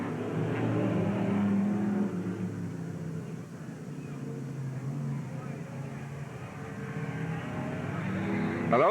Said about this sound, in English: 3 cars side by side all the way around the track, giving it all they got